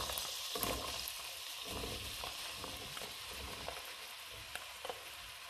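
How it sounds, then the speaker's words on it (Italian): Eggplant and potato pieces frying in a pan of oil with melted anchovies give a steady, close sizzle and crackle, broken by small pops and stirring scrapes, with no talking. "Le alici si sono sciolte e quindi possiamo aggiungere in padella melanzane e patate."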